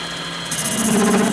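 A carbide lathe insert cuts a stainless steel spinning top, a close, steady grinding hiss that grows louder and rougher partway through the short cut.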